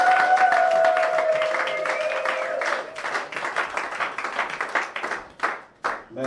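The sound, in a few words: wedding guests clapping and cheering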